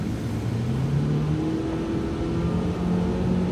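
A Mitsubishi Lancer accelerates on a hairpin driving course, its engine a steady close drone with tones climbing in pitch as the throttle opens, heard alone without voices.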